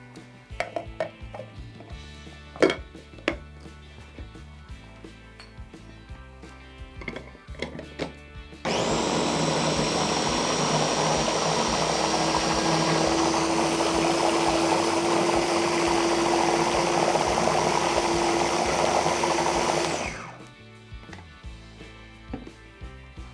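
A blender whirs loudly for about eleven seconds, mixing hummus ingredients (chickpeas with salt and added water), starting abruptly and then winding down, preceded by quieter kitchen clatter.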